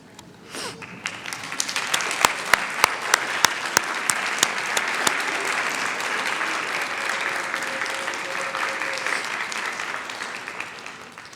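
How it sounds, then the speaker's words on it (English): Nursing graduates at the North Idaho College registered nursing pinning ceremony applaud their families, with loud, sustained clapping from a large crowd that swells quickly, holds steady with a few sharp standout claps, then tapers off. "please rise and turn to those who are here to help you celebrate this success and give them a round of applause"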